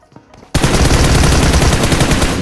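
Gunfire in the PUBG Mobile battle royale game: after a quiet half-second, a loud, dense burst of rapid automatic shots runs continuously to the end, close and sustained with no speech.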